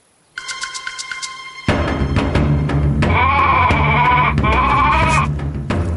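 A sheep bleats loudly and close by in a long, wavering cry, repeated after a short break, with a few high electronic tones ringing at the start.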